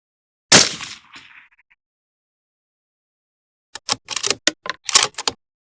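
A rifle chambered in 6mm ARC fires a single sharp shot of 108 match ammunition during an ammo test, loud and close with a quick fading tail. A few seconds later come a cluster of crisp mechanical clicks and clacks from handling the action.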